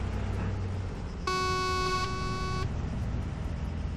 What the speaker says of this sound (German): Erstmal hupen.